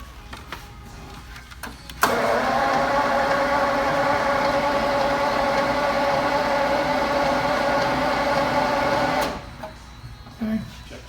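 Jaguar E-Type engine cranking on its first startup attempt during a restoration, a steady mechanical whirring drone that starts abruptly, holds for about seven seconds, then stops, with faint background noise before and after.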